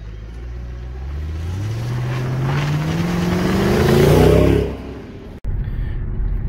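A Mercedes CLS 63 AMG pulls away and accelerates hard, the engine note climbing steadily through one long loud gear for several seconds before the throttle lifts, heard from inside the car with no talk.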